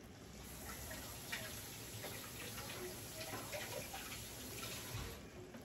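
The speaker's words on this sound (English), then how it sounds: "Let me rinse my hands." Hands rinsed under a running kitchen tap, a steady, soft rush of water that goes on without a break, faint and close, with no talk.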